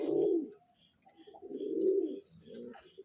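Pigeons coo in low, throaty bursts inside their coop, the lotan breed among them, three or four rolling calls close by with brief pauses, plus a few faint chirps above them.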